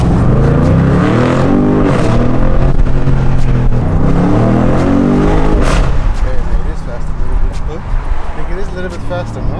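Lamborghini Huracan with forged carbon bodywork accelerating hard, a loud close engine note rising and falling in pitch through several gear pulls, with people talking over it.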